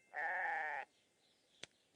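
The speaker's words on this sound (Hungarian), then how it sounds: "Útközben összetalálkozott Montival, a kecskével," A cartoon goat gives one loud, clear bleat lasting over half a second, followed by two brief faint clicks.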